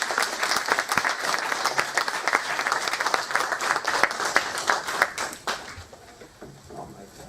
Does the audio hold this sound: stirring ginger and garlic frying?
no